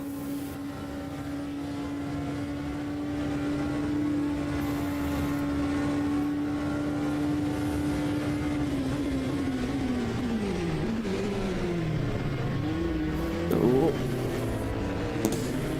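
Onboard engine of a race car in a 24-hour endurance race at Spa-Francorchamps, a loud steady drone that holds one pitch, then rises and falls sharply through shifts near the end, with faint talk underneath.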